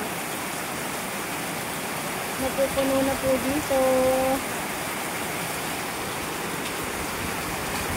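Heavy southwest monsoon rain driven by wind, a dense, constant roar with no pauses, while someone speaks briefly partway through.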